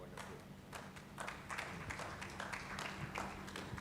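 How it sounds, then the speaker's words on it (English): An audience at a national ICT week conference event gives a round of applause, a dense, continuous wash of many hands clapping, fairly distant and quiet in the hall, with no talk over it. "A resounding round of applause"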